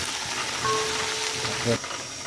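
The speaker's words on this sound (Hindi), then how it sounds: "ये डाल दिए, 2 मिनट के लिए भूनूंगा इसको" Garlic-ginger paste frying in a hot pan for kala chana salan, a dense close sizzle that keeps going under brief stirring scrapes, with one short knock of the utensil near the end.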